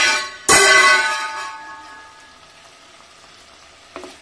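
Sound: frying paneer in a pan

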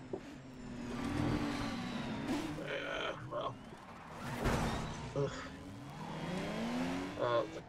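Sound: Lamborghini car engine in racing video game GRiD

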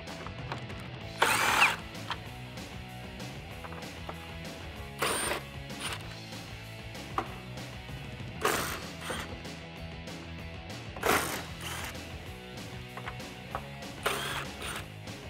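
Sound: removing small 8 mm bolts from a RAM 1500 grille surround

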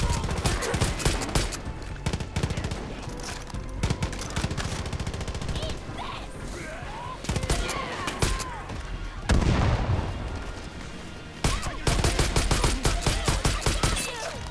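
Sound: gunfire in video game Far Cry New Dawn

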